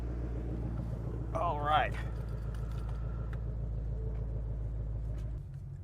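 A 2022 Shelby GT500 with its exhaust out of track mode idles in a steady, deep, loud rumble that continues throughout, and a person speaks briefly over it.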